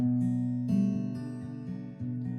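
Quiet, close fingerpicked acoustic guitar notes with the ring finger on the 5th string, a few plucked notes in a slow pattern ringing into each other, no voices.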